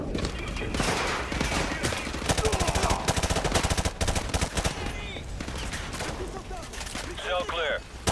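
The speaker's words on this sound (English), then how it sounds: "Oh, he's shooting at me." Rapid automatic gunfire in Modern Warfare 2 crackles in dense, loud bursts, and voices talk over the shooting throughout.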